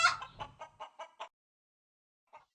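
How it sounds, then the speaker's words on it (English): A farm chicken clucks in a quick run of about six short, evenly spaced notes, close and clear, then falls silent before one last faint cluck. "Chicken."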